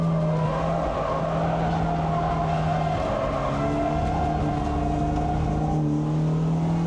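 A B48-swapped BMW E36 drifting on a race track, the engine holding a steady loud drone while tires squeal continuously and a high whine rises and falls, close and alone throughout.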